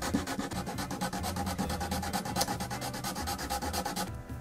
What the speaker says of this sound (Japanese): ヤスリで削ります。